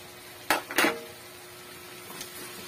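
A utensil scrapes and clanks twice against a pan of sautéed vegetables and pork, close and sharp, then fainter stirring scrapes over a low sizzle.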